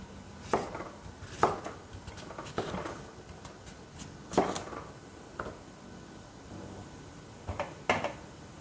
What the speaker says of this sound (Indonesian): Sekarang kita iris ataupun kita potong.